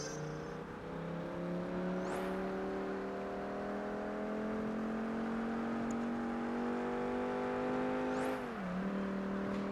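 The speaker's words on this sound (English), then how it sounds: "Why does this car almost sound like a Viper?" A video game race car engine, sounding like a Dodge Viper, drones at high, steady revs with a deep buzzing tone, pitch dipping briefly as it shifts, loud and continuous.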